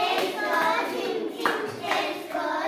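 Children applauding together in a classroom after playing a game, with dense steady clapping throughout and a few voices mixed in.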